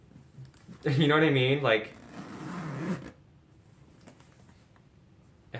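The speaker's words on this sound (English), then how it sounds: "this is a very smooth zipper. It sounds nice, too" A smooth zipper with a leather pull being drawn along a leather tote bag, making a quick, close, raspy run. A person talks over and after it.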